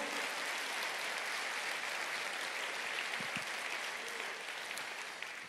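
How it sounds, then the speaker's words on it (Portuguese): A church congregation claps together in a sustained, even burst of applause that fills the room and fades slightly toward the end. "Você pode aplaudir o Senhor?"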